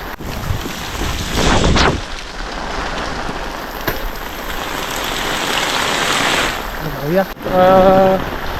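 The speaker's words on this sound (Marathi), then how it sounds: "पावसाचा जोर तर भरपूरच आहे बघू शकता जबरदस्त पाऊस" Heavy rain roars steadily with gusty wind buffeting the microphone, and a short burst of a voice comes near the end.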